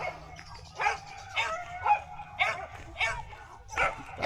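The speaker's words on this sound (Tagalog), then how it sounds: "madami lang din pong aso" Several dogs bark and yip in short bursts about every half second at moderate distance, with some whimpering and faint voices underneath.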